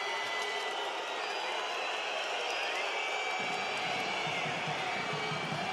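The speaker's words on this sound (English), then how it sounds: "Crowd aren't too happy." A handball arena crowd reacts unhappily to a turnover, a loud steady roar of many voices with whistling and jeering that swells slightly midway, the din continuous throughout.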